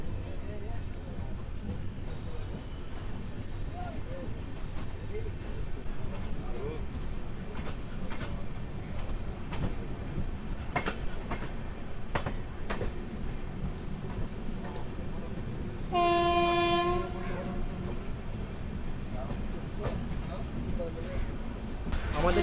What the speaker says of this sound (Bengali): আমাদের ট্রেন এই মুহূর্তে ক্রস করছে বেগমপুর স্টেশন